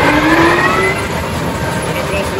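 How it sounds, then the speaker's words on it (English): A tractor engine revs up to drive a New Holland BigBaler 340, holding a loud, steady mechanical drone with a rising whine close by. "You have to rev the engine up to 850 PTL RPMs"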